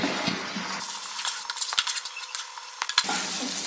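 Chhena and jaggery are stirred together in a hot pan for Raja Poda Pitha, giving a soft sizzle with a spoon scraping and clinking in quick irregular strokes, close by and without speech.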